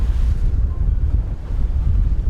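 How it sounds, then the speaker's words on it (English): Wind gusting over open water on a fishing trip, a steady low rumbling buffet against the microphone with a faint wash of waves, no voices. "Can't get out of this wind this week."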